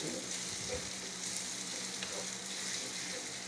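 Garlic frying in a pan, a steady close hiss of sizzling oil with faint stirring scrapes, no one talking, while cooking a chicken feet dish.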